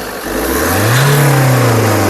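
A 2017/18 Jeep Compass Limited Edition engine revs once, its loud rising rumble swelling and then easing back, close by with no talk.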